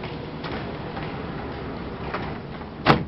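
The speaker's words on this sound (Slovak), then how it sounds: "Ukončite prosím vstup a nástup, dvere sa zavírajú." Sliding doors on a Bratislava metro train close amid steady carriage noise, with a few soft knocks and a sharp clunk near the end as the doors shut.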